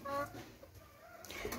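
Hens clucking outdoors in short, soft bursts, close by and fairly faint, with a low background murmur of wind and movement.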